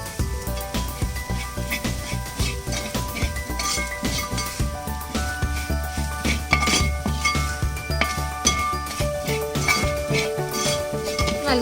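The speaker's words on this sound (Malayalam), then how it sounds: "നല്ലതുപോലെ ഇളക്കി കൊടുക്കാം." A spoon stirs coriander powder, turmeric and chicken masala in a pot for Kerala chicken curry. Regular scraping strokes clink against the metal over a faint sizzle, steady and close throughout.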